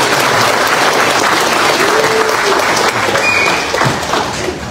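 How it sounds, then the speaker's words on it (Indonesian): Applause from the audience at a national party working meeting, a dense crowd clapping steadily and loudly before tapering slightly at the end. "Kok tepuk tangannya enggak semangat tuh?"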